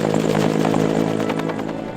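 A Bell 214 helicopter flies nearby, its engine and rotor making a loud, steady, throbbing drone that fades slightly toward the end.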